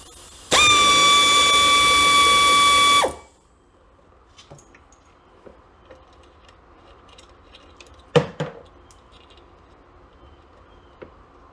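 An air tool whines loudly and steadily for a few seconds while removing a nut from an air hose reel. Afterward the workspace falls quiet apart from light clicks and a sharp metallic clank.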